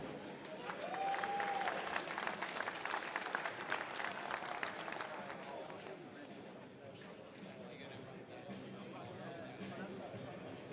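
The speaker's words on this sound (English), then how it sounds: "That's worth a round of applause." Crowd applause at a squash exhibition match in Canary Wharf, a busy patter of clapping that swells early and then settles while an announcer keeps talking over it.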